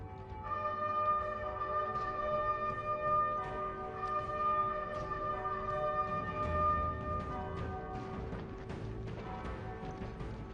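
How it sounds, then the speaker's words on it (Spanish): Church bells pealing to announce the 1918 First World War armistice, several bells ringing continuously and layered, resonant tones hanging over a steady background wash. "Las cornetas y las campanas de las iglesias anuncian el cese al fuego."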